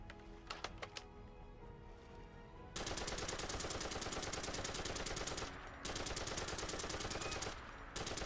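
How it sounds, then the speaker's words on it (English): An M60 light machine gun fires in a modded Fallout 4, with a few single shots and then long, steady, rapid-fire bursts, loud and close, broken by short pauses. "This mod adds the M60 light machine gun to Fallout 4."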